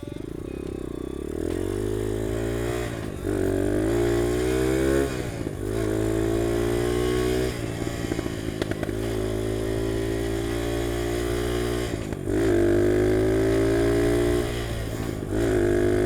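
A UM DTF 150 dirt bike engine drones loudly and continuously while riding in fifth gear, its pitch climbing and dropping with each throttle change and gear shift.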